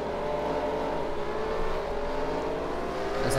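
V8 Supercars race cars drive into a turn, a continuous droning engine roar with layered tonal whines, steady and somewhat distant.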